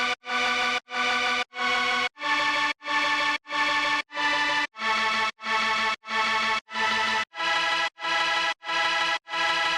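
Omnisphere's Flaming Super Saws synth preset run through distortion plays fourteen sustained, bright and thick chords in a steady rhythm, each cut off by a short gap, loud and alone.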